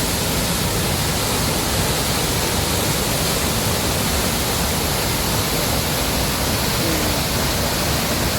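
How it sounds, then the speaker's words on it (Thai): Steady, loud broadband rush of Hua Chang (Elephant Head) waterfall pouring on a forest hike, a constant dense roar filling the whole clip without pause or voices. "สวยงามมากเลยนะฮะน้ำตกครับ"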